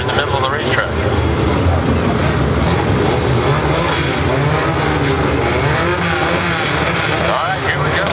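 A drag racing car idles loudly at the starting line at Englishtown, its engine a dense, steady roar that continues without a break under speech throughout.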